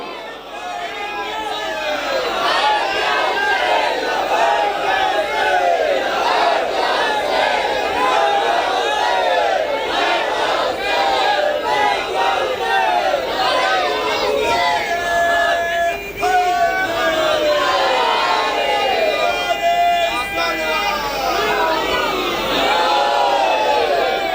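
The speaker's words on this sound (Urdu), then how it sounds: "جب تک اسلام زندہ ہے حسین زندہ باد کے نعرے لگتے رہے." Large crowd at a Chehlum gathering for the martyrs of Karbala, chanting religious slogans in loud, dense unison that swells and holds steady throughout, with shouted voices layered over one another.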